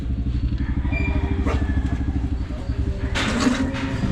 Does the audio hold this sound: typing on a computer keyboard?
no